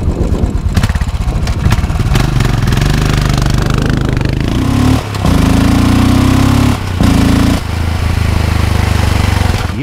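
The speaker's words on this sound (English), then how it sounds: "Yes, the engine sound is quite different. It sounds more like an old school engine." A Royal Enfield 650 Interceptor cafe racer engine runs loud and close, its steady throbbing rumble rising as it revs, broken by two short drops in sound.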